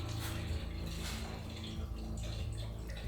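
Steady rushing water in a tunnel beneath Santiago, a continuous broad roar like a cascade echoing in an enclosed space, with low rumbling underneath and no voices.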